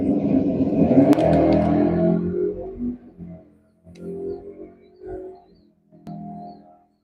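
A red Camaro with an LT1 motor racing at a drag strip: a loud engine rev and roar that surges, then eases off into several shorter revs and burbles with gaps between them, close by.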